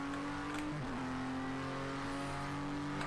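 An LMP2 prototype race car in the Project Cars 2 racing game drones steadily at high revs for the whole stretch, with one quick pitch dip as it shifts gear, loud and close with no talking.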